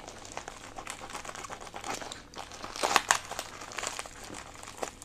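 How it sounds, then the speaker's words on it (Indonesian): Crinkling and crumpling of plastic packaging as an Epson printer resetter is unboxed, a steady close rustle with a louder burst of crackling midway. "Kita akan coba langsung unboxing."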